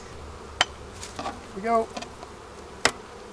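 Honeybees in a busy hive during a smoked inspection while supering, giving a faint buzzing with a brief rising whine and a few sharp clicks, a short spoken phrase just before.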